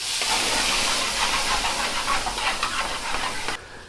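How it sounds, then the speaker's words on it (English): Garlic paste hits hot oil in a restaurant pan while Murgh Kali Mirch is cooked, giving a loud, steady broadband sizzle for several seconds that cuts off abruptly near the end. "he's now going to move on to put some garlic paste in"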